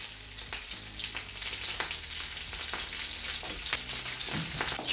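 Meat sizzles in butter in a hot pan, a steady, moderately loud hiss with scattered crackles and pops throughout, no one speaking.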